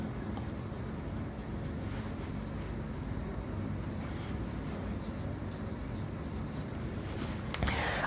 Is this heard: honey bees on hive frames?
no